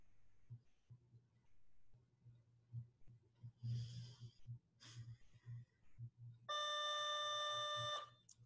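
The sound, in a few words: school bell ringing overhead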